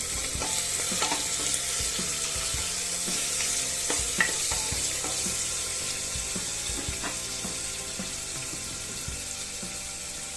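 Dal khichdi is stirred with coriander and tomato in a pot, a bright continuous hiss of sizzling with soft, irregular spoon scrapes and knocks, close and steady throughout.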